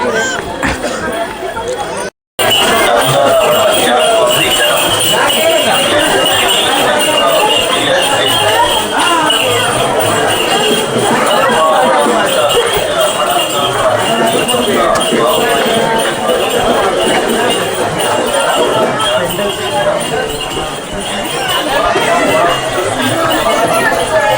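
Crowd of pilgrims at the Ekvira Devi temple at the Karla caves, a continuous murmur of many voices and footsteps at middle distance, steady throughout apart from a brief dropout near the start.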